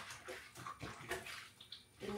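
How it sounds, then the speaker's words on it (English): Dishes being washed up by hand in a kitchen sink full of hot soapy water, with quiet sloshing and splashing in uneven bursts, close by but faint. "I'm just going to wash up a little bit. I've got some hot soapy water"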